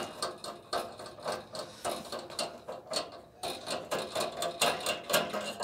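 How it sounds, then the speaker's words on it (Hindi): Screws being unscrewed on a gas geyser with a water leak fault, giving a steady run of close, rapid mechanical clicks and ratcheting ticks throughout. "और ये देखिए हमारे पेंच खुलने लग गया है।"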